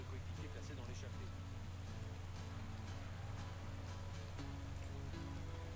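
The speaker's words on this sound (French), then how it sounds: "Alors qu'il pleut toujours hein, sur le parcours actuellement." Rain falls steadily in the Pro Cycling Manager 2015 game during a Vuelta stage, a constant soft patter over a low engine-like drone, with speech present throughout.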